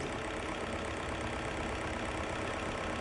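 A common rail diesel engine idles in a steady, unbroken drone with a dense, even texture and a faint rattly undertone, continuous and close throughout, with no voices.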